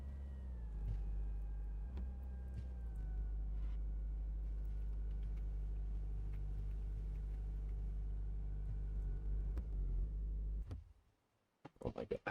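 A 700 horsepower car idling with a deep, steady rumble for about ten seconds, then the engine abruptly cuts out and stalls, leaving near silence followed by a few faint knocks.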